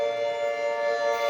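A civil defense siren sounding during a severe thunderstorm warning, heard as a loud, steady, harmonic-rich tone held without a break and with no voices.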